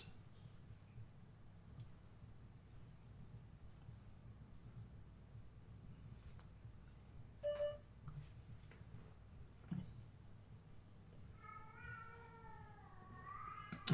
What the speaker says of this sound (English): forgive my cat. She's starting to cry.